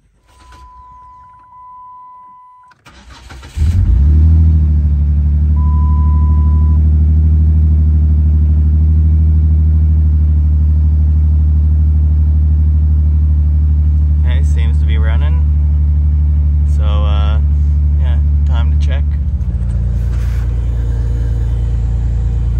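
A Dodge or Chrysler car engine, just fitted with a new fuel pump, cranks and starts, then settles into a steady, loud idle rumble. A short beep comes before the start, and brief voices are heard near the end.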